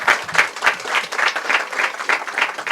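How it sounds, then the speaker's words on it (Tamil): Audience applause at a school annual day celebration: a crowd claps steadily for about three seconds, with dense overlapping claps pulsing at an even rhythm and no talking. "அவங்களுக்கா ஒரு கைதட்டு கொடுங்க."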